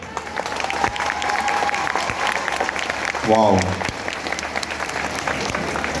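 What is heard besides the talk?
audience applause at a university fashion show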